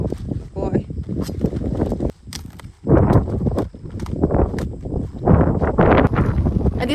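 Strong wind buffets an unshielded camera microphone outdoors, a constant low rumbling roar under loud, close talking that runs through the whole clip.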